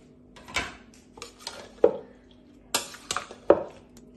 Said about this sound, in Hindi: अब इसके साथ मैं बंद गोभी को भी डाल दूंगी और अब इसे हम मिक्स कर लेंगे।